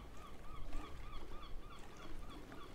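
Honking birds in the fishing game Hooked Inc, a steady series of repeated goose-like calls over a constant low background hum, moderately loud and close throughout.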